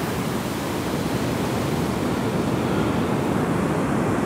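Ocean surf rolls and breaks on a beach, a loud continuous broadband wash with no pauses, heard alone without voices.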